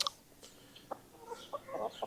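Chickens kept by a city dweller make short clucks and chirps, faint and scattered across a couple of seconds, with a small burst of busier clucking near the end.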